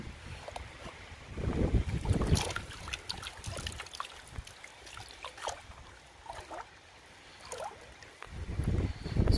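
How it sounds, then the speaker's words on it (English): Gusty wind blowing across an exposed hilltop at a quartz vein prospecting site, a steady broadband rush that swells in loud surges and fades between, with no talking. "It's getting pretty windy up here."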